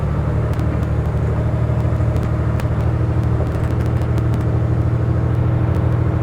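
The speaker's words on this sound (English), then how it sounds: "Do a little bit drifting here." A car drifts up a hill, its engine rumbling loud and steady with low droning revs, sprinkled with faint ticks and scraping clicks over the sustained roar.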